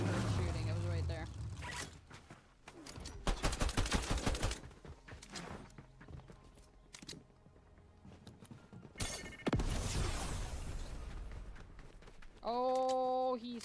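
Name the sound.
gunfire in a video game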